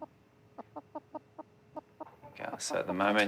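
A big hen clucks in a steady series of short, separate clucks while being weighed on a scale at a vet clinic, then a person begins talking over her.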